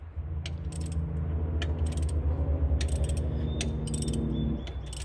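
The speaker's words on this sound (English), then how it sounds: "We just have to get this bolt for this pulley up here loose." A ratchet works loose a pulley bolt in the engine bay of an Infiniti FX35/G35/M35 during a squeaky belt fix, giving dense rapid clicking over a steady mechanical hum, close and continuous, with no talking.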